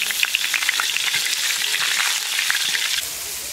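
Bay leaves and whole garam masala spices fry in hot oil for a prawn curry, a loud, dense, continuous crackling sizzle heard up close without any talking.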